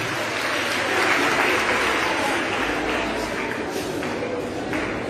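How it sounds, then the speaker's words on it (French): Dense, steady applause fills a hall at a women's leadership gathering in Côte d'Ivoire, many hands clapping together at an even level, with faint voices beneath. "Applaudissez-vous."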